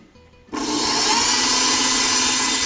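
An electric mixer starts up abruptly and whips egg whites toward soft peaks for a meringue pie, running as a loud, steady, high-pitched whir close to the listener with no talk.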